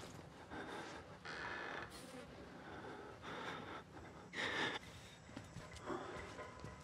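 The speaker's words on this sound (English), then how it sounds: "why am I breathing so loud?" A player character in the horror game Outlast breathes heavily and raggedly, with loud gasping inhales and exhales that rise in bursts over a dim background.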